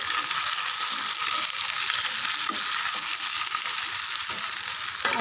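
Chicken frying in a pan gives a steady, loud, close hiss of sizzling that runs unbroken throughout, with no talking.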